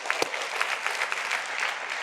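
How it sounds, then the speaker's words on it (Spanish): A church congregation gives a round of clapping together during a sermon, dense and even applause that holds steady from start to finish. "¿por qué no damos una ofrenda de palmas todos juntos?"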